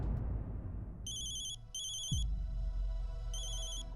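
A phone rings in repeated high electronic trill bursts, pausing between sets, over low background noise with no talking.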